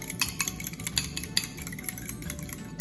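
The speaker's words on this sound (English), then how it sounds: "grab a nice fork. Just whisk it together" A fork whisks two eggs together in a bowl for banana bread, making quick, rapid light clicks and taps of metal against the bowl, close and fairly soft, with no talking.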